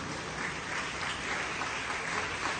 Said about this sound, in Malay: Berikan tepukan kepada semua ibu bapa dan YDP.